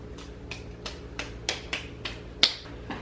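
Seasoning ground up by hand while cooking salpicón, heard as a steady run of short, crisp crunching crackles about three per second, close and moderately loud, with no talking.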